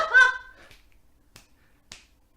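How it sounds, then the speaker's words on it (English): A single sharp snap opens, followed by a few faint, brief clicks spaced out in near silence. "I called this a finger snap"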